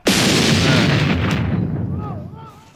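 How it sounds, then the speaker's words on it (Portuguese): A loud, sudden bomb explosion sound effect on a TV reality show, a sharp blast followed by a long rumbling decay, with faint tonal sound effects appearing as it fades. "Olha, vem a bomba!"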